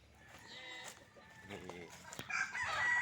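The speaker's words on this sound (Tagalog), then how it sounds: "daghan kay manok pala guys oh. At ay mga manok" Chickens on a farm, a cluster of clucks and a rooster crowing that grows louder toward the end, mostly on its own with little talk.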